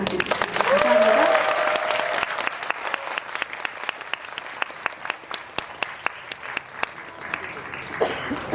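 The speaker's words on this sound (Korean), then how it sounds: "세 분의 핸섬 가이즈에게 큰 박수 부탁드립니다" An audience applauds at a film screening Q&A for the Korean movie Handsome Guys. Loud, full clapping swells early, then thins into scattered, sharp claps that taper off, with some voices beneath.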